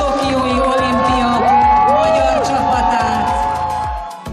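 Crowd of fans in an arena cheers loudly for Hungarian Olympic medallists from the Tokyo 2020 games, with steady applause and whoops under a rising voice, all continuous and near.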